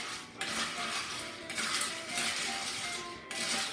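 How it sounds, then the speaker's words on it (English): A spoon stirs a mint julep through crushed ice with mint and simple syrup, giving close, bright clinking and scraping of ice in bursts, quiet and alone. "And then you're going to stir."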